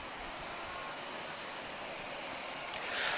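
An Airbus A320-232 jet with V2524 engines at Lisbon Airport gives a steady, broad engine roar that swells slightly toward the end.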